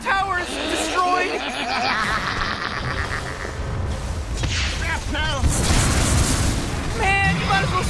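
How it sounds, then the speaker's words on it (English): A tower explodes in a Dota 2 match, with heavy booms and bursts mixed into busy game effects and announcer-style speech. "Radiant's middle tower is destroyed."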